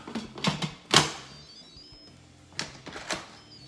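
A few sharp metallic clacks and clicks as a pressure cooker lid is set on and locked, scattered over a few seconds with quiet gaps.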